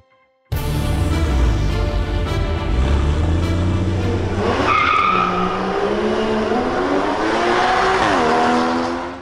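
Renault ZOE e-Sport electric car and a Porsche Cayman S in a drag race, loud continuous engine roar and tyre noise that rises in pitch as they accelerate hard, close by with no talk.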